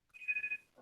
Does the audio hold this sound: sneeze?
no